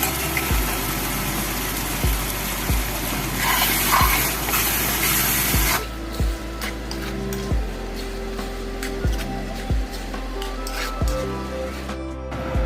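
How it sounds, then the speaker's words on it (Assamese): Boiled tarka lentils tip into a pan of tomatoes frying in oil, giving a loud gushing sizzle that eases into a steadier, quieter fry, with soft thumps of the pan recurring throughout. "এতিয়া ইয়াত তাৰকাখিনি দি দিম বইল কৰি থোৱা"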